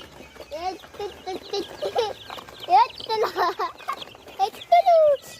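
Domestic chickens being shut into their house, one held close in a person's hands, cluck and squawk up close in a continuous, busy series of rising calls.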